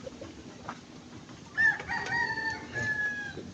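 In a backyard chicken coop during a typhoon, a rooster crows once, loud and near, amid a few soft clucks from chickens against a faint, steady background hiss.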